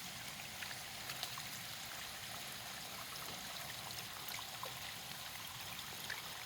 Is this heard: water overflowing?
yes